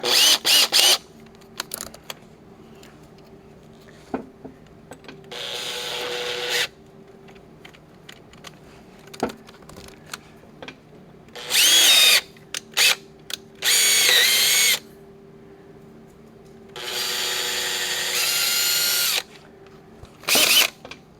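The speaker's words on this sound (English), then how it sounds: "I think what I'm going to do is try and drill it in the center" A power drill bores out a broken bolt in a Big Cam Cummins engine block, running in several loud separate bursts with quiet gaps of clicks and handling noises between them.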